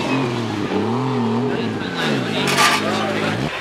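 A supercar engine revs and roars nearby at a large car meet, its pitch rising and falling, with voices talking over it.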